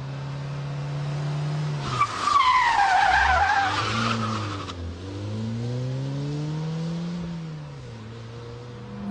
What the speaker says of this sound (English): the simplest stunt of them all, the handbrake turn